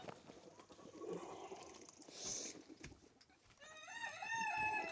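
Chickens cluck and crow in a farm pen alongside donkeys, goats and ponies, with several birds calling at once and a rooster's crow rising near the end, moderately close with some rustling.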